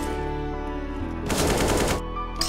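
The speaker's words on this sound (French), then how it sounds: "J'ai tiré sans faire exprès, j'ai fait 2 kills." Gunfire in the CS:GO video game, a loud rapid burst of shots lasting under a second, rising out of steady background game sound and followed by one more brief shot near the end.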